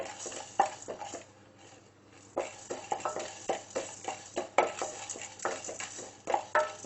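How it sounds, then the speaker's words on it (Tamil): A utensil stirs chana dal as it dry-roasts in a pan without oil. The scraping and rattling strokes come in a steady, close rhythm after a short quieter pause. "இதில் ஃபஸ்ட்டு கடலைப்பருப்பு வச்சுடலாம். எண்ணெயில் போட வேண்டாம், சும்மாவே வறுத்துடலாம்."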